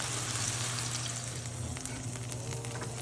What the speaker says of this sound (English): Frying the meatballs up, the mushrooms on the side on the heat.